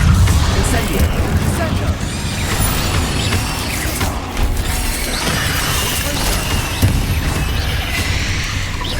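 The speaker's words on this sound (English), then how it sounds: "Incendio." An Incendio fire spell cast in Hogwarts Legacy, a loud burst of crackling, whooshing flame with shattering and clanking effects. It stays dense and steady throughout.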